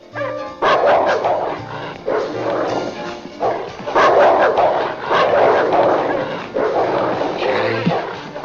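A guard dog barks repeatedly in loud, close bursts with some yips and whimpers, the barking cut by brief pauses and mixed with background sounds.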